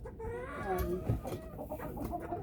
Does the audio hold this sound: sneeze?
no